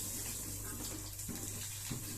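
Breadcrumb-coated potato lollipops fry in hot oil, giving a faint, steady hiss and gentle crackle throughout.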